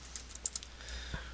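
Computer keyboard keys tapped while entering a ping command at a command prompt: a handful of quick, light clicks in an irregular rhythm, close and fairly soft over a low background hum.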